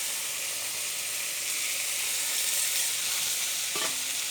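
Greens with salt, turmeric and split green chili stirred in a hot wok, a continuous bright sizzle and hiss with a soft scrape near the end, no voices.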